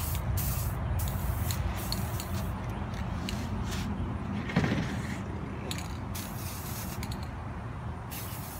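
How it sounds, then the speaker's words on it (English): Steady hiss of aerosol spray paint coating an antique wire lampshade in black, a continuous broadband rush lasting throughout with brief interruptions, close and fairly loud, with no talking. "So I'm just gonna go ahead and keep spraying it"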